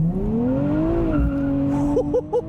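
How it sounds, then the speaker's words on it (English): A 2024 Nissan Z Nismo twin-turbo launches with launch control on a road, its engine note climbing steadily, dipping briefly at a gear change, then pulling again, with short tire chirps near the end. "To engage launch control, you pull both paddles."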